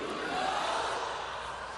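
A crowd at a Harris campaign event at Howard University, a steady, distant roar of cheering voices, even and sustained throughout.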